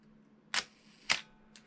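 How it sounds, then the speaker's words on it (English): Copal-made vertical-travel focal-plane shutter of a Canon EF film SLR firing, giving two crisp, close mechanical clacks about half a second apart and a fainter third click, over a quiet low hum. "it was made by Copal. And it's a vertical travel shutter."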